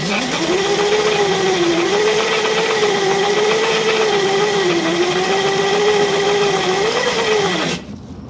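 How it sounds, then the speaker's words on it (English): A car engine revs hard and holds a high, wavering whine during an attempted burnout, rising and dipping a little over about eight seconds before cutting off abruptly; loud and close, with no talking. "I'm gonna be pulling a burnout."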